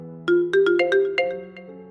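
A mobile phone plays a notification tone for an incoming OTP text message: a short, clear melodic run of about six bright chimes, stepping upward and fading out, heard alone.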